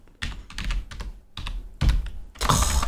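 Quick bursts of typing on a QWERTY computer keyboard, close and fairly loud, in several clustered runs of keystrokes with short pauses between them.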